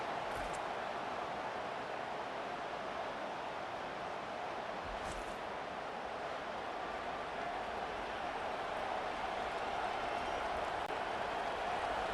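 A home stadium crowd roars on third down in the College Football 25 video game, Alabama versus Tennessee, a dense, steady wall of cheering noise that holds at full level throughout.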